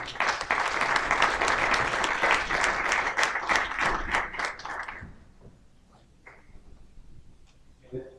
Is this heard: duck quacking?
no